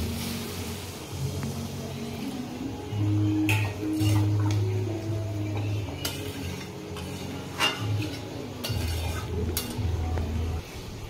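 Water is poured into a pan of mutton scraps that are already cooking, giving a low, steady sizzle and bubbling with a few scattered clinks of utensils against the metal. No one speaks.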